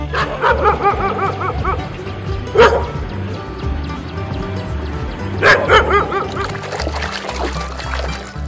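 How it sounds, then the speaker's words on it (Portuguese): A dog barks repeatedly in quick bursts, with a couple of louder sharp yelps standing out, fairly close and loud. "Cachorro."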